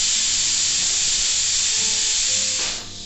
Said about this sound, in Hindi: प्रेशर कुकर की लिड लगाकर इसे हमें 5 से 6 विसल आने तक प्रेशर कुकर लेना है।